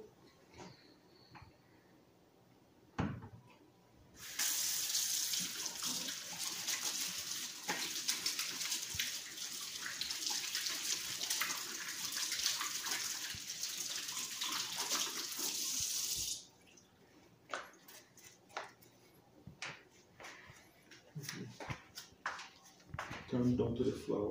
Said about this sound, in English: let me wash my hands before I get started.